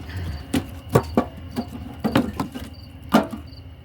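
Charcoal fire building inside a VersiFire burner, giving a string of sharp crackles and pops at an irregular pace, fairly close and moderately loud over a low, steady rumble.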